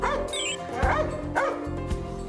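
Rescue dogs bark and yip excitedly at a visitor at a training site, a dense, loud run of overlapping barks with whimpers mixed in over background noise.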